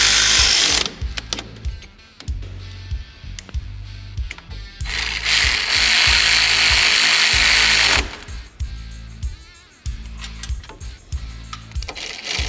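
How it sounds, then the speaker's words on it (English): Bolts on a Polaris RZR XP 1000 rack and pinion being tightened with a power tool, heard as loud, close bursts of rapid ratcheting and whirring separated by short pauses, with no talking. "you can go ahead and fully tighten all your hardware"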